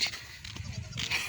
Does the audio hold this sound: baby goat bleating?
yes